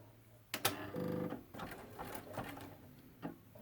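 A sewing machine zigzag-stitches quilt blocks butted together down the center seam, running in a steady mechanical burst of about half a second, close up, framed by a few handling clicks.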